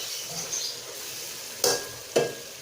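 Bhindi masala is stirred in a pan, with a faint sizzle underneath and two sharp utensil scrapes against the pan toward the end, no voices.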